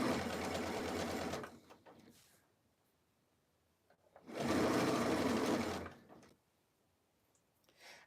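A sewing machine stitches cotton quilt fabric for a Christmas tea towel in two steady bursts of rapid whirring, each about one and a half seconds long, separated by quiet with faint handling clicks.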